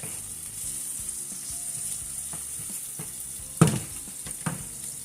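Food fries in a pot with a steady, close sizzle, and a couple of sharper clanks and rattles like a utensil or lid knocking the pot partway through, no talking.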